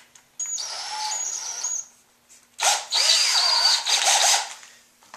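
A power drill bores into a plastic part during a 1973 Husqvarna CR400 motorcycle ignition and light kit install, two loud whining bursts, the second longer with the motor pitch rising and dipping as it bites, no talk.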